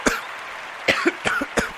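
A person coughs several times in short, harsh bursts, close up in a live radio studio, with brief pauses between each cough.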